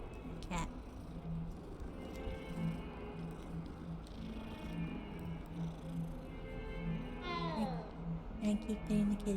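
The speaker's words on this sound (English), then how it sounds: "Look at the cute cat. Good kitty cat. Let me pet it again." A cat meows in the video game Hogwarts Legacy, a few soft mews rising and falling over a steady low game soundtrack hum, with a person talking intermittently.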